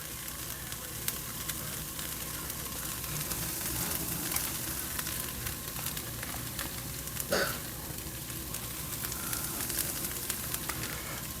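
Bacon and potato sizzle in a pan over medium-low heat with a soft, steady crackle and scattered small pops. The level stays fairly quiet throughout, and no one speaks.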